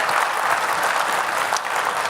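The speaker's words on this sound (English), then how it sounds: "So can we give him one more round of applause?" Dense, steady applause from a conference audience at a London tech event, sustained loud clapping filling the space with no pauses or voices on top.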